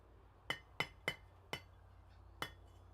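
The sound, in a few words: hammer striking hot metal in a smithy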